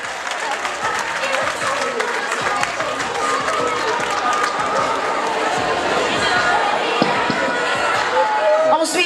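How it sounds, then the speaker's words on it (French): A crowd claps in sustained, loud applause filling the room at a university integration day ceremony, with scattered voices and chatter mixed through it. "Des applaudissements, s'il vous plaît."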